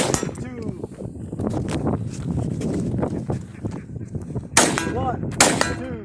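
Rifle shots fired during a desert shooting competition stage, two sharp loud reports standing out over a busy, noisy background.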